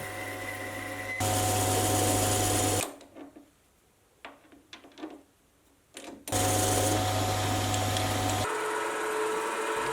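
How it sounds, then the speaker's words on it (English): A lathe fitted with a boring bar cuts bushings for a steel power shaft on a vintage machinist die filer, running with a loud steady whir, then pausing for a stretch of scattered clicks and taps before resuming. "I'll be using a boring bar to get a really nice sliding fit."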